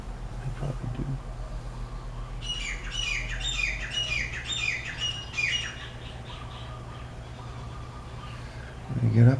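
Tropical birds squawk and chirp in a repeated, fairly close series of calls during the morning, heard from a bed near the beach, with low background rumble and a brief voice at the start and end.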